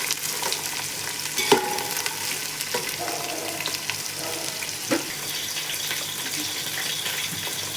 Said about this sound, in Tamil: நல்லா கோல்டன் ப்ரௌன் கலரில் ஃப்ரை ஆகுது